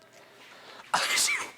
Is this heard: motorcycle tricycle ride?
no